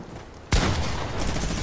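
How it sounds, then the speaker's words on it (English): Fortnite gunfire erupts suddenly after a quiet moment, a loud sustained burst of overlapping shots that keeps rattling to the end. "I think they're firing on someone else"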